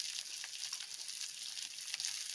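Chopped onion frying gently in oil for a snakehead fish curry gives a faint, even, continuous sizzling hiss with no talk.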